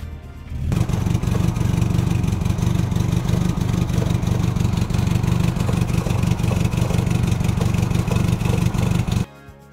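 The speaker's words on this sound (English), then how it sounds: "As you can tell, that exhaust does not have a healthy sound." A rough, clattering old car engine with a leaky exhaust and stock header idles steadily and loudly throughout, with a raspy, uneven exhaust note and no talking.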